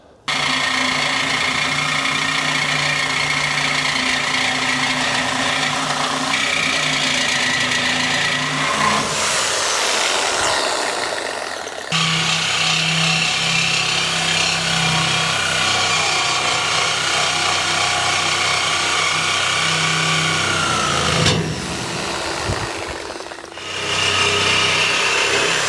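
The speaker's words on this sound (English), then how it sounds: "we'll take the grinder and we'll just cut these welds and do it that way." An angle grinder cuts through the welds holding a ramp onto a semi trailer, a loud continuous whine that runs steadily for most of the stretch, with brief dips as the tool pauses and restarts.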